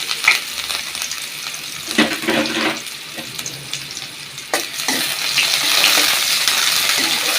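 Chopped onions frying in oil in a pan for a radish and magur catfish curry, giving a loud, continuous sizzle with bursts of stirring scrapes and clatter, no talk.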